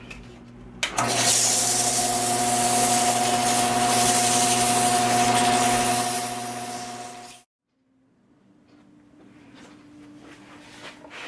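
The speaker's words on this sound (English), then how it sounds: "on slow speed I'm going to sand at 100 grit" A spalted crotch figured maple bowl of punky wood is sanded at 100 grit on a lathe at slow speed: a loud, steady abrasive hiss over motor hum lasts about six seconds, then stops, leaving a faint hum.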